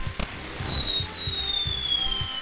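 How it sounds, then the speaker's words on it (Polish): Video game fireworks in Crazy Machines: a few sharp pops and crackles burst in an irregular rhythm, with a long thin whistle sliding slowly downward through them. "I te fajerwerki mają być oznaką naszego triumfu"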